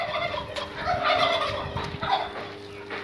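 Turkeys penned in separate coops on a farm gobble repeatedly in overlapping bursts, several birds calling close by and fairly loud.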